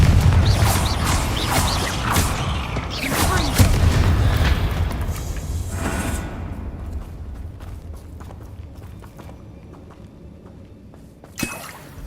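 Confringo fire spells in the Hogwarts Legacy game burst as loud booming blasts with rumbling debris, heavy for the first half, then fading into a quieter stretch ending in one sharp hit; a voice shouts over it.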